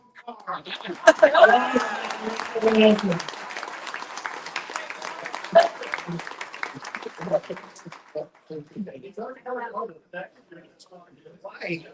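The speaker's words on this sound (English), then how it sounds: "give everyone here your own round of applause" A crowd at a racing event's awards night applauds for several seconds, a broad wash of clapping with a voice talking over it, then fading out as speech carries on alone.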